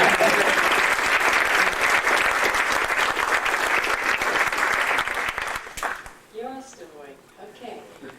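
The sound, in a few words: audience applause at an awards ceremony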